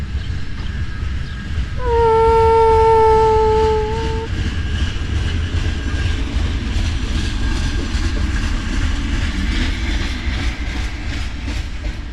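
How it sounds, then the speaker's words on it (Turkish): A TCDD DE33050 locomotive's horn sounds for about two seconds near the start, then a heavy ore freight train departing a station rumbles and clatters steadily along the rails, continuous and close. "trenimiz az önce kalktı istasyondan"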